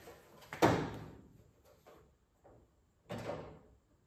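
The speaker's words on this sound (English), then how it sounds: "Put the drawer in and we're done. All right, slide the drawer." A Snap-on toolbox drawer slides shut on roller bearing slides with a rolling rumble and soft thump, followed by a lighter bump and a second sliding knock, close by.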